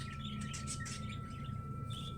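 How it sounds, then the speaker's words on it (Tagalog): Small birds chirp and tweet in short bursts inside an aviary, set against a steady low hum and constant background noise, with no one speaking. "napakaganda po ng ibon na sa ibunan ni Lods Joners TV"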